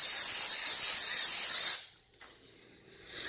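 A steam cleaner steams clothing, with pants and protective gear such as a face shield and N95 mask also mentioned. A loud, steady hissing spray runs for almost two seconds, cuts off, then a softer hiss returns near the end. Nobody speaks.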